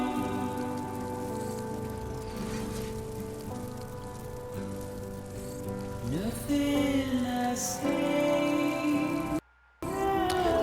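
Timefall rain falling in the Death Stranding video game, a steady patter over a sustained atmospheric musical score, continuous and moderately loud, with a brief dropout near the end.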